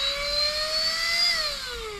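A cordless rechargeable vacuum cleaner runs with a steady high motor whine and airy hiss, its pitch shifting slightly partway through, loud and close with no talk.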